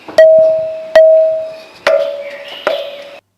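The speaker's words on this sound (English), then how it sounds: "here's the sound of a temple bell" Four struck resonant tones from an ancient temple's stone pillar, each a sharp hit ringing out into a sustained, slowly fading temple-bell-like hum, spaced about a second apart.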